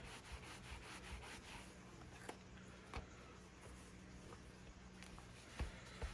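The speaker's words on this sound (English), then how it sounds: "I'm going to take a cloth and lay it on and just gently rub it." A cloth is rubbed gently over a Hotpoint WM52 washing machine timer board, giving faint, soft, continuous scrubbing with a few light taps, quiet and close.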